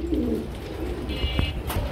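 A pigeon gives a short, low coo close by, with faint background noise around it.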